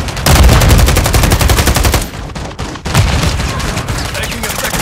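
Rapid automatic gunfire in Call of Duty: Modern Warfare III, loud, close bursts of fast repeated shots with a brief lull before the firing resumes.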